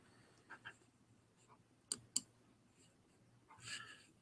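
Two sharp mouse clicks close together near the middle, with a few softer clicks before and after, made while working in a Mac Bible study app. The clicks are faint and isolated in a quiet room.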